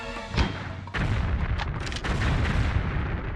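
Super ammo fire in the Tomb Raider 4 video game: heavy booming shots, one short blast followed by a sustained roaring barrage, loud and close, with no talking.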